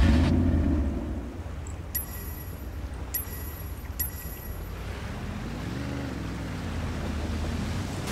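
A motorboat in the video game Sleeping Dogs drives across water, a quiet, steady engine rumble with splashing that settles into a low, droning hum toward the end.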